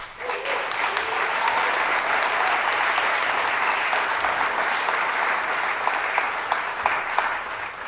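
A crowd at a free press speech event breaks into applause, steady dense clapping from many hands filling the room for about eight seconds with a few sharper claps standing out near the end.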